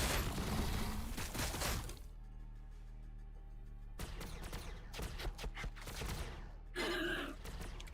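Gunfire in the strategy video game Warhammer 40k: Battlesector, a dense burst of volleys and impacts for two seconds, a quieter lull, then renewed scattered shots and bursts through the second half.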